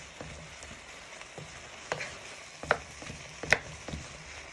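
Beef goulash with paprika is stirred around a pan with a steady low simmering sizzle, while a few sharp scrapes and knocks of the spoon stand out near the end.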